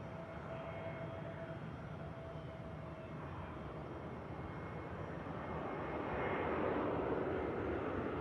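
An airliner landing at Manchester Airport gives a steady, distant broadband roar that swells louder toward the end, with a faint tonal whine fading early on.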